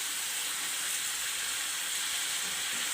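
Minced keema frying in a pan, a steady bright sizzle that holds evenly at moderate level throughout, with no voices over it.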